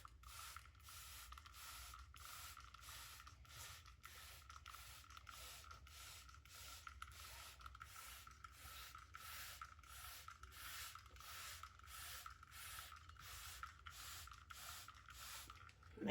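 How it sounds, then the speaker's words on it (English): A spray bottle mists seedlings started indoors, giving a quiet, rapid, regular series of short hissing spritzes repeated steadily throughout. "So I'm going to spray them again."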